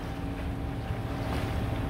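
A sailboat motors under engine across glassy calm sea near the Brazilian coast, heading from Morro de São Paulo to Baía de Camamu. It gives a steady, close, continuous drone with a low hum, lightly brushed by wind noise.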